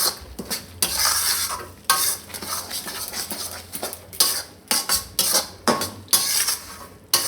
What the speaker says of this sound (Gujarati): બધું આપણે બરાબર મિક્સ કરી દઈએ.